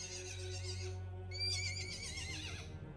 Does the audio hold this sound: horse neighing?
yes